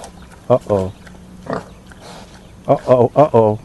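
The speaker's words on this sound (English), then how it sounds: "I hear snorting." A pig sound effect of snorts and oinks comes in short, loud bursts, a few spaced grunts followed by a quick run of several close together.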